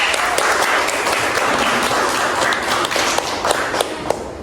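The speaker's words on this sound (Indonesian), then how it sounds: "Tepuk tangan dulu deh." Students in a school classroom giving a round of applause, steady dense hand clapping that carries on throughout with a few sharper individual claps standing out.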